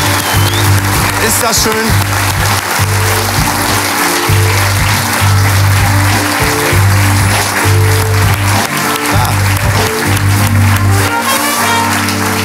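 Applause from a late-night TV studio audience greeting a guest, loud and continuous, with a rhythmic music bed and a short spoken remark over it.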